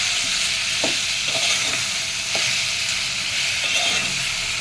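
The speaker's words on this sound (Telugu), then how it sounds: "ఒకసారి కలుపుకొని ఇంట్లోనే టమాటాలు వేసేసుకుందాం" Tomatoes fry in a pan with a constant sizzling hiss, broken by a few soft, spaced scrapes of a spoon stirring them, close by and free of talk.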